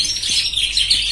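Pet birds chirp and tweet steadily at close range, with quick overlapping high calls throughout and no talking.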